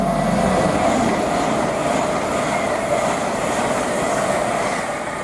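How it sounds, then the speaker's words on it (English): A Class 807 passenger train running towards Liverpool Lime Street on the West Coast Main Line at Tamworth, giving a steady, loud rolling rumble with a broad hiss that holds evenly and eases slightly at the end. "we have an 807, I think, heading to Liverpool Lime Street."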